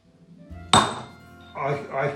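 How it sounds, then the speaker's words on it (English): A steel center punch is struck once into a metal plate being marked for drilling ash holes in a log burner riddler. It gives a single sharp, close metallic tap, followed by quieter handling noise. "So I'll just center punch all of these"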